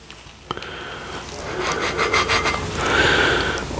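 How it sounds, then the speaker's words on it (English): A Wagner cast iron pan is scrubbed after a lye bath, with close, rough rasping strokes of brush or pad against metal in quick repeated passes that grow louder toward the end. "We're going to rinse it off, give it a little bit of a scrub."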